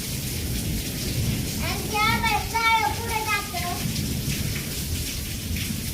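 Steady rain pours with a dense hiss, while a voice briefly rises over it in the middle.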